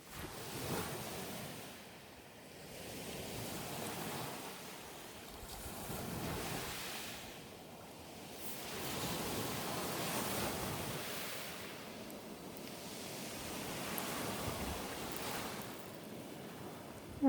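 Ocean waves breaking on an autumn beach, rising and falling in slow, regular surges with a soft hiss of surf and some wind noise, heard moderately close and without any talk.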